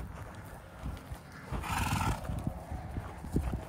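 Horses in a pasture nearby: soft hoof thuds and shuffling on the ground, with a horse's whinny rising briefly in the middle.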